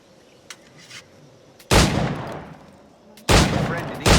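Two loud, booming firearm blasts from Assassin's Creed IV Black Flag, each a sharp crack with a long ringing tail, spaced a little over a second apart after a quiet stretch with faint clicks.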